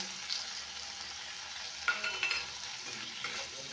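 Chopped tomatoes and green chillies frying with onions, salt and turmeric, a soft, fairly faint sizzle with a few sharper stirring clicks near the middle, no talk.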